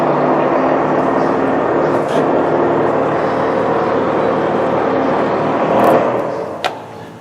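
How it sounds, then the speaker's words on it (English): Ford Edge with chrome clad wheels and Goodyear Viva 3 tires makes a steady road roar and hum while driving, attributed to the rear tire, with a few faint knocks near the end. "the rear was definitely making a noise with the tire"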